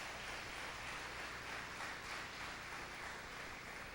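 A church congregation claps together in a dense, even wash of applause that holds at a steady, fairly faint level for a few seconds, with no voices standing out.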